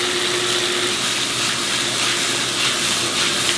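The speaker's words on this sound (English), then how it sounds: "To give a little bit liquid, okay? Put water." Water poured into a cooking pot of goat stew with tomato and cabbage, a continuous, fairly loud gushing pour that holds steady throughout with no talk over it.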